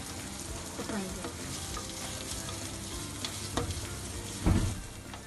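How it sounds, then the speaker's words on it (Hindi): Onions frying in a pan for chow mein make a steady, close crackling sizzle, with a few louder stirring clatters near the end. "साथ ही हम इसमें प्याज डाल देंगे। इसको लाल होने तक थोड़ा पकाएंगे।"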